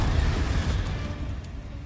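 Spell blasts from Confringo and Bombarda casting in Hogwarts Legacy, a dense low rumbling boom that swells at the start and rolls on steadily through the short span, heavy and close with no talk over it.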